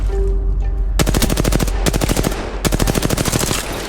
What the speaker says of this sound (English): once again, my teammates opened fire